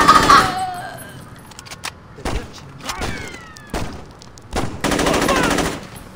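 Automatic AK rifle bursts in the Saints Row video game, loud and close, with an opening volley followed by spaced shots and a final sustained burst amid gameplay noise.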